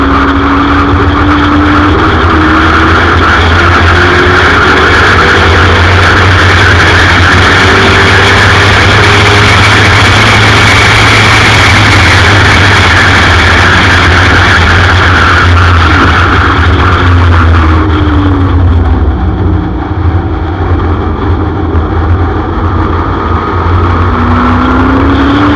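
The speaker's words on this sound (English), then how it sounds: "There's the orange Fairmont off on sale as they race up the Golden Highway towards Sarl Sweep." Race cars, among them an orange Ford Fairmont, charge up the Golden Highway at sunset, a loud, continuous engine roar that holds steady and eases slightly near the end.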